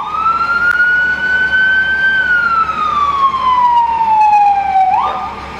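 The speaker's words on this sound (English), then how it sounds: "if you want to hear him turn his siren on" A fire truck siren wails loud and close, one long tone rising slowly then gliding down before jumping back up at the end, steady over a low engine rumble with no talk.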